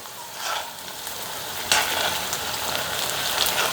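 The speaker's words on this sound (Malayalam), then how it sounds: "ഇനി നമുക്കൊന്ന് പതിയെ ഒന്ന് ഇളക്കി കൊടുക്കാം കേട്ടോ" Ivy gourd pieces frying in a pan and gently stirred, a continuous bright sizzle with soft scraping strokes and a sudden louder surge of frying partway through.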